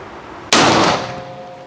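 A single loud revolver shot cracks out at an outdoor shooting range, a sharp sudden blast that rings and decays over about a second, with no talk.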